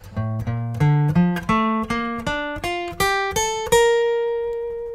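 Clean guitar picks an ascending run of single notes from a pop solo, each note plucked separately in an even rhythm, the last one ringing out and fading, played alone at moderate volume.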